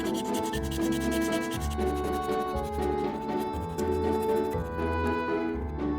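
Sandpaper rubbed over a carved wooden dog figure, steady rhythmic back-and-forth scraping strokes, close and continuous with a faint bed of background music underneath.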